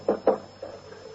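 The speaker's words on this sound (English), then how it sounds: "Knock on his door." Knocking on a bedroom door in an old-time radio comedy: two quick, muffled knocks close together, followed by a softer thud or rustle, with no voices.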